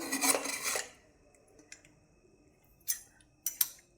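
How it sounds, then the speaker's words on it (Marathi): A metallic rattle and scrape as a pressure cooker lid is worked open after cooking khichdi from ration rice, followed by a quiet pause and a few sharp metal clicks and clanks. "कुकरचं झाकण खोलून घेऊया"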